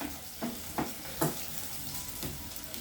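Onions frying in a pan for a home dinner alongside sukuma wiki, a steady close sizzle with a few louder stirring clatters scattered through, no talking.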